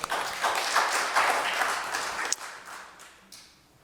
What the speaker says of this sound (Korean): 우리 하나님께 영광의 박수 올리십시다